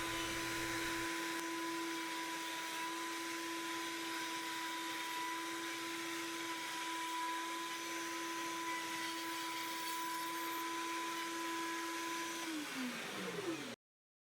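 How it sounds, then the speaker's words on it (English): A PantoRouter router cuts box joints in a wooden workpiece with a continuous, steady whine and airy rush. The motor tone holds constant, then drops away as the router spins down and stops at the end. "back the router away from the workpiece and plunge forward again with the bit below the workpiece to cut up from the bottom to complete each cut"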